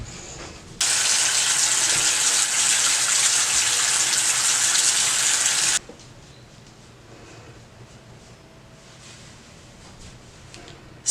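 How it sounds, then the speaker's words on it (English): A bathroom tap runs in a steady loud gush for about five seconds while a face is washed, then shuts off, leaving quiet splashes and rubbing nearby. "so I'm just gonna wash my face."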